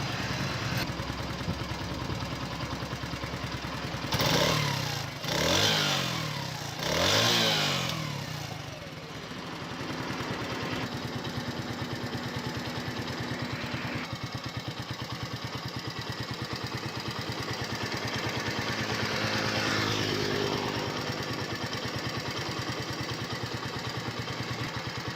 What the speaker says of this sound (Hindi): बाइक के इंजन में बेहतरीन आवाज़ आ रही है